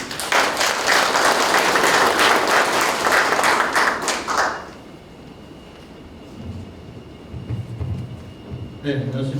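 Audience claps for about four seconds at an outdoor ceremony launching the restoration of the Paju Mokgwana government office site, dense and lively, then fades to quiet crowd murmur with faint voices.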